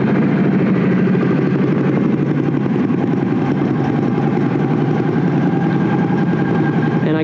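A 2019 Can-Am Renegade ATV engine idles steadily with a low, even rumble that holds without change throughout, close by and fairly loud.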